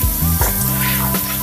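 Ginger garlic paste and coriander powder sizzle loudly and steadily in a hot pan while chilli chicken curry is cooked, with a close, continuous frying hiss and no talk.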